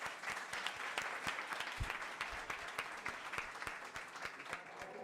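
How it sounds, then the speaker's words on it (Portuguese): An audience at an evening panel in Balneário Camboriú breaks into steady, dense applause, a sustained wash of clapping that holds for several seconds without a break. "uma grande salva de palmas"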